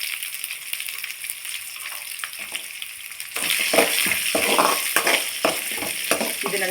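Garlic cloves, dried red chillies and halved small shallots fry in a pan with steady close sizzling that grows louder and denser midway, broken by frequent scraping stir strokes; no one speaks.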